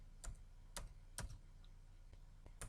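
A computer keyboard clicks with a few sparse, separate keystrokes, faint and close in a quiet room.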